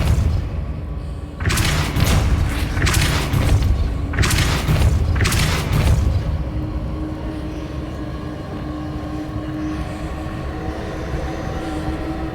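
Depulso spell cast in Hogwarts Legacy, a few heavy rumbling booms in quick succession with a deep low-end thrust, followed by a fading ambient drone.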